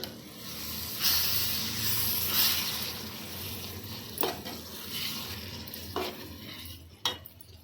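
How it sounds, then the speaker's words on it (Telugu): A boiling curry with fenugreek leaves being stirred in a pan: soft continuous bubbling and sizzle, with several sharp scrapes and clinks of a spoon against the pan. "ఉడుకుతుంది, ఒకసారి కలుపుకోవాలి"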